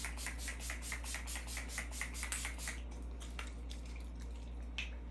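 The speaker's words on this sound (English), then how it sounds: "Nice little spritz." Setting spray misted onto a face during a makeup routine, heard as a row of short, soft hissing spritzes in the first three seconds, then a few scattered fainter puffs over a steady low background hum.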